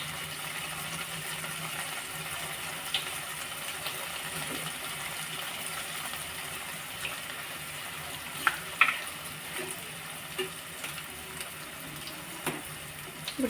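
Bread cubes fry gently in oil over a low flame, giving a steady soft sizzle with a few faint clicks and small bubbling pops, fairly quiet and continuous, with no one talking.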